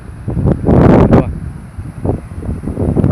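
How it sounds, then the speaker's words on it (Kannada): Sea waves surging against partly submerged rocks at a beach in Kumta, Uttara Kannada, sounding as a loud rushing crash that swells and fades, followed by smaller washes amid gusty wind noise. "ನೋಡಿ ಅಲೆಗಳು ಹೇಗೆ ಬರ್ತಾ ನೋಡಿ ನೋಡಿ ನೋಡಿ ಅಪ್ಪಳಿಸಿದ ನಿಧಾನಗತಿಯಲ್ಲಿ"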